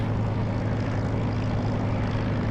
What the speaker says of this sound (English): I'm in a Spitfire LF Mark 9 and I'm about to take off